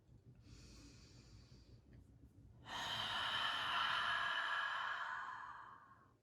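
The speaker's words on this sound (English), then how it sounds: "Take a nice big breath in." A deep Ujjayi breath drawn through a constricted throat: a soft hissing inhale, a short pause, then a longer, louder, raspy ocean-like breath held for several seconds before fading, close and alone.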